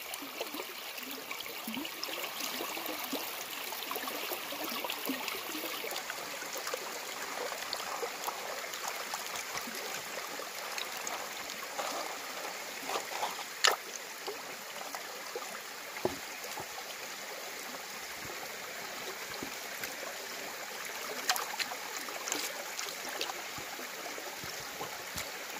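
A gold-bearing side creek runs over bedrock below a geological fault line, giving a faint, continuous trickle and wash of flowing water with occasional small splashes.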